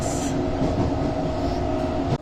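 Steady loud rumble of train 17663 from Raichur to Secunderabad, heard on board, dense and continuous with rattling wheel noise throughout.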